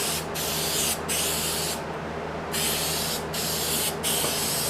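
Spray coating hisses from an aerosol can in about six steady bursts, each lasting under a second with short pauses between them, loud and close with no voices.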